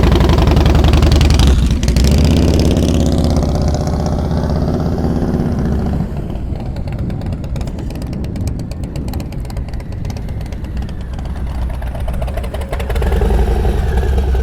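A motorcycle engine rumbles continuously at low revs during slow-speed riding practice in Ohio, loud and close, steady with slight throttle variations and a drop in intensity midway.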